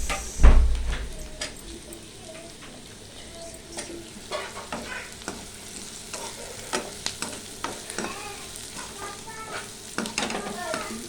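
Soya chunks (meal maker) frying in a pan, a low steady sizzle with irregular spoon scrapes and taps, a louder thump near the start, close up with no talking.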